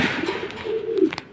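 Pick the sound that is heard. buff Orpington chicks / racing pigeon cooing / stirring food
racing pigeon cooing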